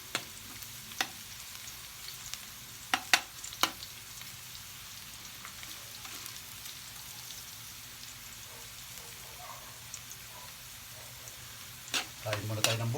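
Food stirred as it fries in a pan until golden, just before onions go in, during a home cooking session of buro; a steady soft sizzle runs throughout, broken by sharp scattered clinks and scrapes of the utensil, with no talking.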